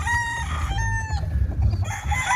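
Several young chickens cluck and peep close by, with a short crow-like call and a steady low background rumble.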